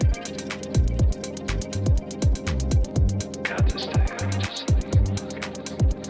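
Electronic drum machine track programmed on a Digitakt 2, with a very wide stereo clap: a steady beat of punchy kicks and sharp claps repeating in a tight loop, loud and alone with no talking.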